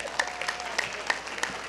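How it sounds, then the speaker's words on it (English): Audience applause at a talk, moderate and fairly close, with a few sharper individual claps standing out from the steady patter. "Round of applause."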